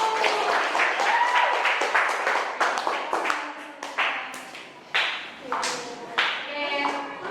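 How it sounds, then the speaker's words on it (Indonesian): A classroom group claps enthusiastically for a student team after their presentation, a dense patter of many hands that swells, thins out and then renews in scattered bursts, fairly close. "beri aplaus untuk kelompok 1"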